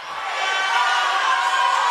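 A basketball crowd in a packed high school gym shouts and roars in protest over a non-call on a foul, a dense, sustained wall of voices that swells slightly and holds loud throughout.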